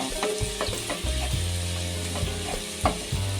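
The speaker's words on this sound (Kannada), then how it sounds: "ಎಲ್ಲನೂ ಹಾಕಿ ಚೆನ್ನಾಗಿ ಫ್ರೈ ಮಾಡ್ಕೋಬೇಕು ಸ್ವಲ್ಪ ಬ್ರೌನ್ ಕಲರ್ ಬರೋ ಗಂಟ" Onions and spices fry in a pan for chana masala, a steady close sizzle with occasional stirring scrapes and clicks, no voices.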